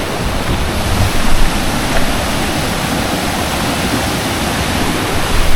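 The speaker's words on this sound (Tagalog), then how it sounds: "Ito yung sa taas na part ng falls." A waterfall at the upper part of the falls roars loud and close as a dense, continuous rush of water, with no voices over it.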